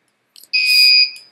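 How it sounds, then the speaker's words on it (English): An RFID security reader on a BeagleBone rejecting an incorrect tag, a small click followed by a single loud, short electronic beep of about half a second, close and alone. "then it beeps briefly indicating that that's not correct RFID"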